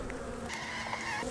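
Many honeybees hum steadily at close range around an open hive, a continuous busy drone with individual insects briefly buzzing louder as they pass.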